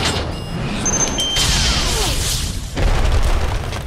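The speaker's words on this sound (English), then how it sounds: "Press Q button to use your missile barrage." A missile barrage explosion in the Costume Quest video game, a whooshing descent followed by a sudden booming blast near the end, loud and close with no talk.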